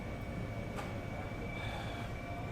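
Interior of a moving passenger train on a five-hour journey home, a steady rumbling hum of wheels and carriage with a faint high whine and a brief clack, quiet throughout.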